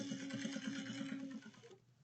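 A sewing machine stitches two fabric pieces together with a back stitch, a rapid even mechanical whirr with a steady hum that stops abruptly after under two seconds, close and moderately quiet.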